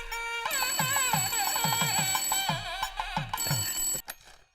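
A telephone ringing with a long electronic ringtone, a repeating warbling melodic trill of rapid tones that plays continuously, then cuts off abruptly as the call is picked up.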